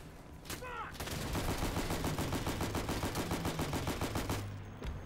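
Rapid automatic gunfire in the World War II shooter Day of Infamy, a dense, continuous burst of loud shots lasting several seconds with a brief voice shout near the start.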